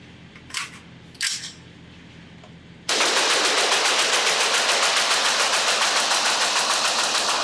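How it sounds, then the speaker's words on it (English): A magazine dump from an LWRC M6 IC-A5 12.7-inch piston short-barreled rifle on a range: a loud, unbroken stream of rapid evenly spaced shots for several seconds, after a couple of quieter handling clicks. "let's go to the range and let's see how fast I can empty a magazine in this awesome LWRC"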